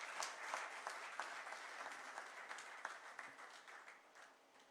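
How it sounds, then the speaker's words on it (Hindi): Scattered audience applause at a commemoration event, faint and distant, with individual claps standing out over a thin steady patter that tapers off slowly. "आपके प्रति जोरदार तालियों के साथ अभिनंदन।"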